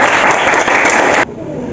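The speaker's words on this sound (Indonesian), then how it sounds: "Mungkin udah tepuk tangan temannya." Classmates applauding in a classroom, a dense burst of clapping lasting about a second before cutting off abruptly into quiet room tone.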